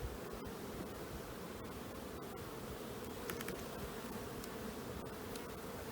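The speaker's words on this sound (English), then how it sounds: "These bees really love this honey." Honey bees drone steadily around an open hive during an inspection, a dense, continuous buzz close by with faint rustles and clicks.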